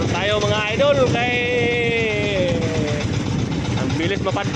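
A bangka motorboat's engine drones steadily while the boat drifts during squid fishing in strong wind and choppy waves. Wind buffets the microphone and voices are heard over the engine.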